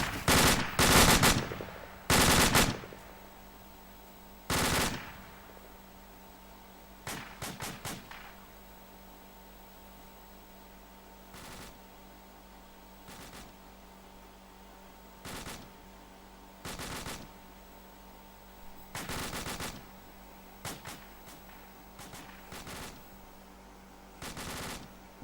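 Rapid rifle fire at a 100-meter firing range during fireteam training: a dense cluster of loud, sharp shots at the start, then spaced single and double cracks and short bursts echoing over a steady background hum.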